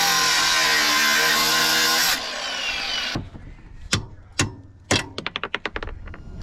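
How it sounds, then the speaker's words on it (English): An angle grinder cuts through a part during an oil change job, running as a loud, steady whine for about three seconds before stopping, followed by a string of sharp metallic clanks and taps. "I'm gonna grab the grinder and I'm gonna cut it off"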